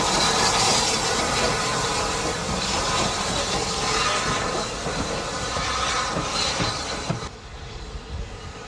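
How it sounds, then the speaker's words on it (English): Bulleid Light Pacific steam locomotive 34101, built in 1950 and based at the North Yorkshire Moors Railway, running with a loud, dense rumble and steam hiss that eases toward the end. "An identical design from Oliver Bullard is number 34101 Heartland, based at the North Yorkshire Moors Railway and built in 1950."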